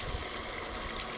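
Electric pump motor running at a 110-foot farm well, water gushing out in a steady, continuous rushing flow with no voices.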